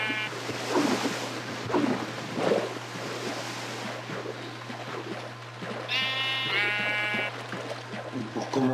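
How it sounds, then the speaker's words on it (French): Sheep in the Minecraft video game bleat several times, short nasal cries scattered across a steady ambient background with a low hum, with a clearer, louder bleat near the end. "Viens ici, petit mouton."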